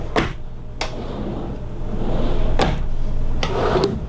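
Drawers in a 2018 Newmar New Aire 3341 RV slide and bump shut, four sharp knocks spaced a second or so apart over a steady low hum.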